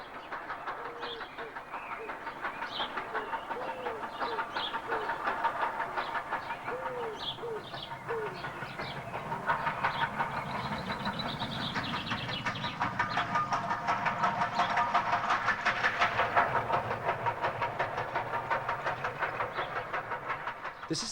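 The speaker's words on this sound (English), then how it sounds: "This is the 340 Up Mail from Bournemouth, hauled by Evening Star, passing over Cole Viaduct in the late afternoon." Steam locomotive Evening Star hauling the Up Mail from Bournemouth over Cole Viaduct on the Somerset & Dorset line, a steady distant rumble and clatter of the passing train, with pigeons cooing nearby throughout.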